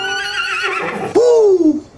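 A horse lets out a single loud, close neigh that rises sharply and then trails downward, heard near the end after a short stretch of quieter sound.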